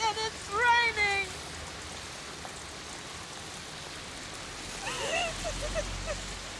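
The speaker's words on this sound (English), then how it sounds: "it's raining" Steady rain falls as a soft, even hiss throughout, with brief voices talking over it near the start and again toward the end.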